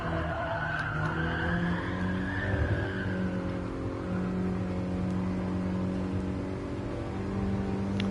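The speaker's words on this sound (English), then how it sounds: "And hard on the brakes for Levant." A Mini Cooper Cup race car brakes hard at Goodwood Circuit, tyres squealing in a long sustained screech over a droning engine, steady and close throughout.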